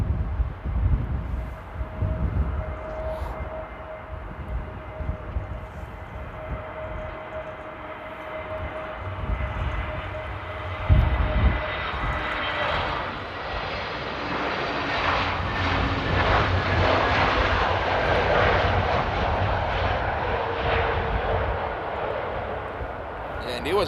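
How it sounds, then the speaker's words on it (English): An EasyJet airliner on short final into Amsterdam airport in stormy weather, a low distant jet rumble and whine that swells gradually as it approaches, with wind buffeting and a person talking now and then. "we have EasyJet on very short final"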